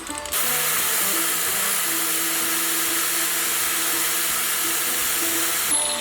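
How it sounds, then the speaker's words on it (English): A power tool cuts through a metal rod for Suzuki Savage bobber struts, giving a loud, steady, high grinding whine that starts abruptly and holds for several seconds before stopping. "I'm gonna cut on the left side of the tape, keeping the longer part of the rod"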